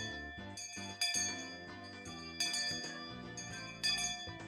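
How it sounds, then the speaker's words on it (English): A handheld school bell in the visual novel Higurashi When They Cry, waved back and forth as the school chime. It rings in repeated bright metallic clangs that strike about every second and a half, each leaving a long shimmering ring, with no voices. "The principal waved around the bell that served as the school chime."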